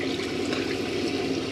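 Water running steadily from a caravan tap with the pump switched on, a continuous close, fairly loud hiss and splash that stays even throughout with no talking.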